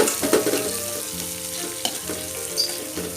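Garlic sizzling in a pan over low heat with Masako seasoning added, a steady close frying crackle with occasional stirring scrapes, no talk.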